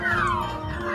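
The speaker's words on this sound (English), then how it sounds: "It's always Meowth." Meowth's cry in the Pokemon Snap video game, a single loud cat-like meow with a falling pitch, close and clear without speech.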